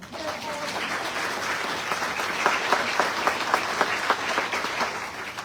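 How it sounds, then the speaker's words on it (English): A town hall crowd applauds a middle school teacher named Jen, steady clapping from many people with some sharper individual claps standing out near the end. "we have a round of applause for Jen"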